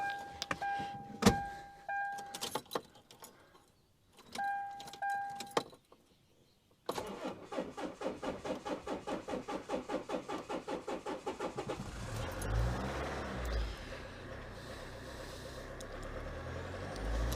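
A 2009 Kia Grand Carnival diesel cold-starting: a few clicks and pauses, then the starter cranks rhythmically for several seconds before the engine catches into a rough, loud idle, close by with no talk.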